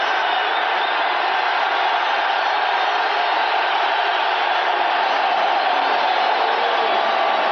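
A dense, steady stadium crowd roars throughout at an NFL game, Detroit Lions at the New York Giants in 1988, loud and unbroken with no distinct voices.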